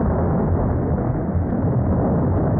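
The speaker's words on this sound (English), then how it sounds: "The explosion obliterated a small minefield somewhere." A blast obliterates a small minefield, heard as a loud, dense, unbroken rumble that roars steadily for the whole stretch with no pauses and no voices.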